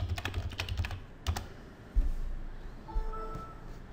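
Username and password being typed on a computer keyboard during a two-factor logon: a dense run of quick key clicks, close and clear, then a brief pause and a few scattered keystrokes with faint electronic tones.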